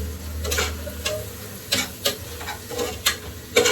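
Spices being stirred into chicken biryani masala in a pan: a spoon scrapes and stirs in repeated strokes over a low sizzle, with sharper clicks as it knocks the pan.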